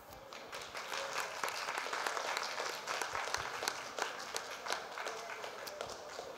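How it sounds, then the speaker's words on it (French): A seated audience at a public conversation event applauds together in a continuous patter of many hands, with sharper individual claps standing out as it thins toward the end. "On peut applaudir?"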